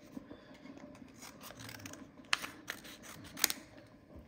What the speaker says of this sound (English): you just cut it like that